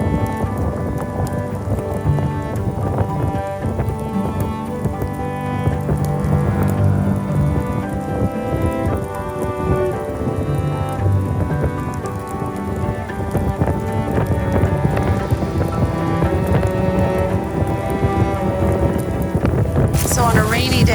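Steady rain falling on a muddy stretch of the Appalachian Trail during a thru-hike, a continuous close hiss and patter that runs the whole time beneath a layer of tonal background sound.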